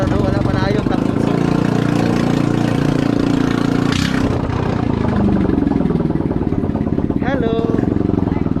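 A motorcycle engine idles close by with a steady buzzing putter throughout, loud and continuous, while someone talks over it outdoors.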